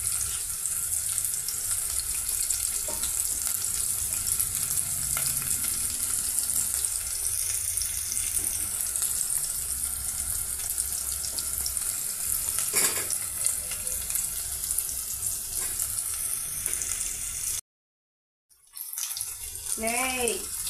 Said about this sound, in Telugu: ఇక ఇవి ఫ్రై అవుతున్నాయండి